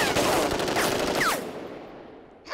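A burst of fully automatic machine gun fire at a military training range, loud dense rattling for over a second before cutting off and fading.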